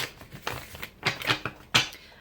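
Tarot cards are shuffled in quick, crisp riffles, a few separate flicks and snaps that are close and fairly loud, with no talking.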